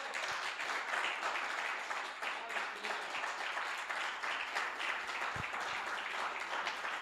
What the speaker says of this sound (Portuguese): Você pode dar um aplauso a Jesus?